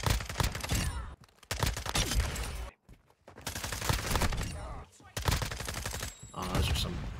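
Rapid bursts of FSS Hurricane submachine gunfire in Modern Warfare 2, dense and loud in several volleys separated by brief gaps, with a voice speaking over parts of it.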